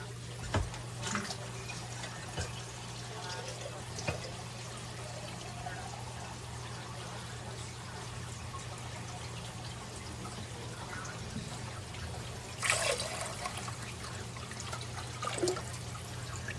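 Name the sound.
water pouring into a pot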